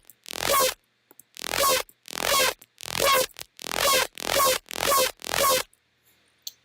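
A gritty, distorted Xfer Serum synth bass patch in mono with the drive turned up plays eight loud, evenly spaced notes, each a buzzing, wobbling burst separated by short silences.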